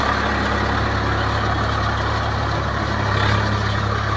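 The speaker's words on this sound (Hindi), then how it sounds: "1400 RPM पे जुताई हो रही है ट्रैक्टर से।" A Swaraj 742 FE tractor drives a rotavator tilling a field at 1400 RPM. A continuous heavy engine drone with a rough, even texture sits close and loud, with no pauses or voices.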